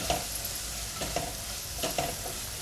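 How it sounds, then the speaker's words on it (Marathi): Kurdu wild greens being stir-fried with red chilli masala in a pan, giving a steady close sizzle with a few stirring scrapes of a spoon. "हे आपण छान असं परतून घेऊया"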